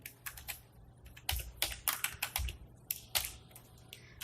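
Code being typed on a computer keyboard: bursts of quick, close key clicks with short pauses between runs, heard alone at modest volume.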